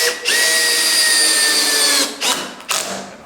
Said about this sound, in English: I'm basically just drilling through the keel piece, and then we'll throw a screw in there